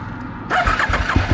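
An Aprilia RSV R 1000 Factory motorcycle engine cranks and catches after a half-second of quiet, then settles into a loud, rough running rumble close by.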